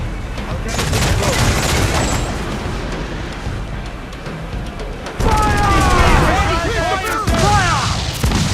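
Ship cannons fire in Assassin's Creed IV Black Flag as a pirate ship's crew is ordered to shoot at a fleeing slaver ship, with loud, dense volleys of booming shots and rushing sea noise while voices shout orders.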